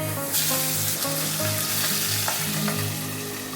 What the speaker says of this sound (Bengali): কড়াইতে দেখো তেল গরম হয়ে গেছে, এবার মাছগুলো ভেজে নেবো।